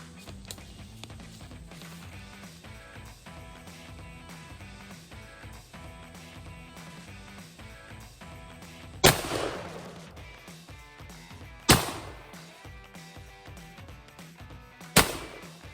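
A firearm is fired at a Toyota vehicle, with three sharp, loud gunshots at intervals over a quieter background of light handling noise, with no talk.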